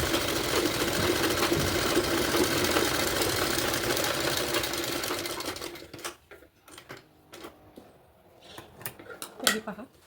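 A sewing machine runs steadily while stitching a blouse strip, a loud close mechanical whir for about six seconds, then stops, leaving scattered handling clicks and rustles of fabric.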